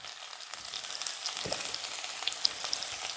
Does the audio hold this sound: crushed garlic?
yes